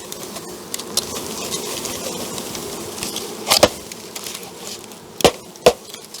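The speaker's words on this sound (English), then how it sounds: "That's a lot of bees in this one, huh?" Honey bees from a package being installed into a hive buzz in a steady near drone, with a few sharp knocks and thumps from the hive box breaking through.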